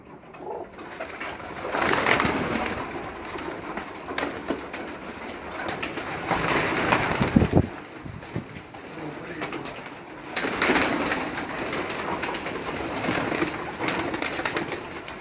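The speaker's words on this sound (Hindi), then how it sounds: "आपके कबूतर बहुत तेज पड़ते हैं" Pigeons kept by a fancier coo and rustle close by, soft throaty calls repeating in loose bursts over steady background noise, with a sharper flutter partway through and no talk.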